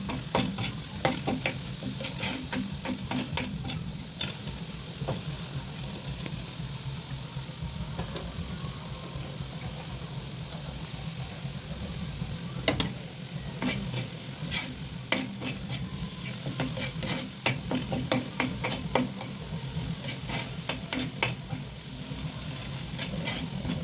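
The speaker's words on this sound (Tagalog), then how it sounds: "igisa-gisa natin yan guys para maluto-luto yung vegetable" Vegetables stir-fried in a pan with salt for curry fried rice: a steady close sizzle runs throughout, with repeated scraping and clattering of a utensil stirring against the pan, and no talking.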